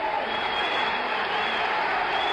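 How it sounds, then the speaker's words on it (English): Dense, steady crowd roar from spectators at a boxing match between Roberto Duran and Vilomar Fernandez, a continuous wash of cheering and applause throughout. "The crowd loves it here."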